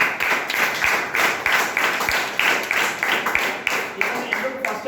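An audience at a business gathering claps in rhythmic, regular bursts, with a voice speaking over the clapping.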